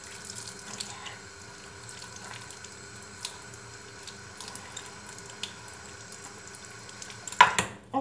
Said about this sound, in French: Donc vous continuez à le rincer tout en l'essorant.